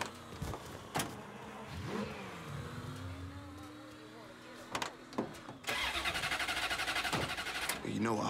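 Car engine in Mafia 3 cranking and catching, then rumbling and revving as the vehicle pulls away, with door thumps, game ambience and dialogue spoken over the engine noise.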